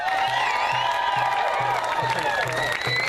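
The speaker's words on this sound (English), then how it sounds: "Let's give her another round of applause." A crowd at a protest march cheers and applauds loudly, with whoops and shouts rising over steady clapping throughout.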